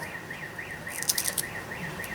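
A car alarm goes off in the distance, faint repeating electronic warbles cycling steadily behind quiet indoor craft sounds.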